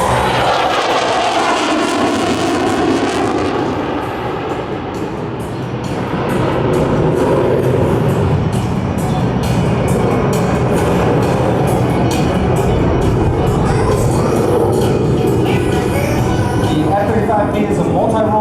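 A Lockheed Martin F-35B STOVL jet at the Singapore Airshow, its engine a loud, broad roar that dips briefly and then surges back, continuous and close, with a voice talking over it.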